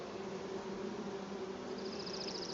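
Bees cover a comb frame during a springtime hive check, their dense, constant hum filling the space up close, with a thin higher whine joining near the end.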